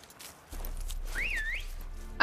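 A man whistles a short rising-and-falling tune in the video game The Witcher 3: Blood and Wine, faint and brief over low ambient hum, ending with a sudden sharp noise.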